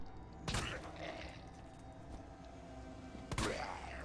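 Pistol fire in the Resident Evil 2 video game: two sharp, loud shots about three seconds apart, with game ambience in between.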